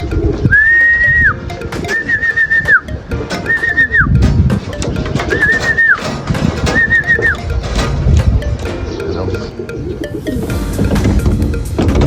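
Racing pigeons coo close by in a loft over busy rustling and fluttering. Rising, whistle-like notes repeat five times in the first half amid the steady commotion.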